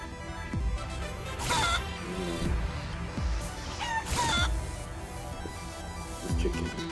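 Chicken clucks and crowing from the video game Guacamelee! 2, with repeated squawky calls over game music and effects.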